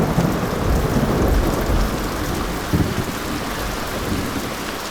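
Heavy rain pours steadily in a dense, hissing wash, with low rumbles of thunder rolling underneath and no voices.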